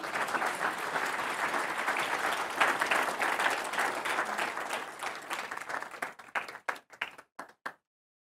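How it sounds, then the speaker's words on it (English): Audience at a keynote event breaks into full, dense applause that holds for several seconds, then thins to scattered separate claps and stops, leaving silence. "Big round of applause for Brandon here."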